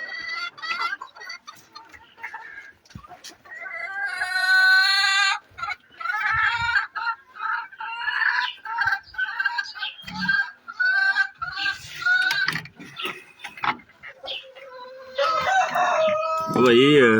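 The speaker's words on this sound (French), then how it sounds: "c'est les poulets Brahma là." Brahma chickens on a farm clucking, squawking and crowing repeatedly at close range, a busy, overlapping chorus of fowl calls with a few other animal noises mixed in.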